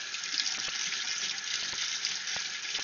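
Cold water runs steadily from a tap, giving a close, continuous splashing hiss with a few faint clicks and knocks underneath.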